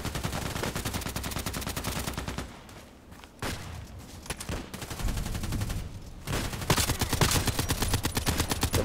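Gunfire in a first-person shooter video game, with loud bursts of rapid automatic shots close by, a brief lull with scattered single shots, then sustained heavy firing again.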